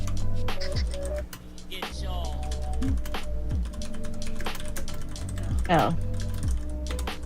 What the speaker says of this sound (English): he's typing something